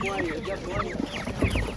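Broiler hens cluck in a steady, overlapping chatter at a poultry market, with a few louder calls standing out and some faint background voices mixed in.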